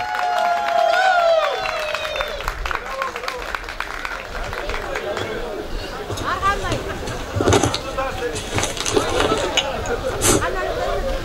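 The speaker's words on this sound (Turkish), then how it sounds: "Alkışlarınızla efendim." Audience applause and crowd hubbub welcome a village headman (muhtar) of Dalakçı at a community ceremony, a dense steady wash of clapping and chatter mixed with voices and some music-like tones throughout.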